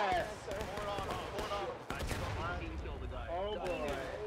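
Musket volleys and scattered rifle shots crack in the Civil War video game War of Rights, mixed with shouting players and a sharp loud report near the middle.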